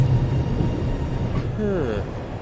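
Train moving in the video game The Raven: a steady low rumble of the rolling carriages with a brief whistling squeal near the end, continuous and fairly loud.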